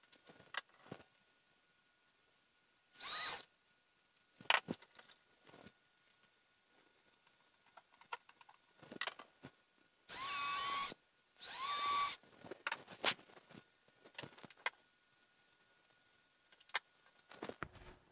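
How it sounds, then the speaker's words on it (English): On a wooden sailboat hull, holes are drilled to fit a plate, with short, loud bursts of drilling at intervals among quieter handling knocks and clicks. "I'm just going to start this screw to help locate the plate while I drill the other holes."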